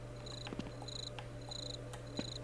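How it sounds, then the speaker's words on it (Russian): Crickets chirp in Half-Life on PlayStation 2, steady repeating high trills over a constant low hum, with occasional faint clicks and no voices. "Такое сверчки, типа там все дела."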